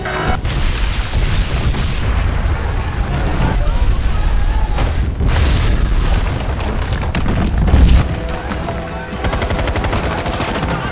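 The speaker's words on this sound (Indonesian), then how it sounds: "seluruh istana pun hancur dalam sekejap" In a film, a palace is blown apart by a bomb: loud booming blasts and crackling, rapid bursts roll on for several seconds, with a heavy thump near the end and a voice talking over it.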